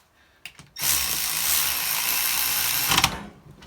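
A power tool whirs steadily for about two seconds while loosening a part during a junkyard Chevy 14-bolt axle rebuild, preceded by a few short clicks and ending with abrupt ratcheting clacks, heard alone and close.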